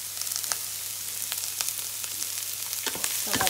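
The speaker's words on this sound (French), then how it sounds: "je vais faire revenir tous mes légumes d'abord dans un peu d'huile" Vegetables with garlic cloves frying in a little olive or sunflower oil in a pan, a faint steady sizzle with light crackles and stirring scrapes near the end.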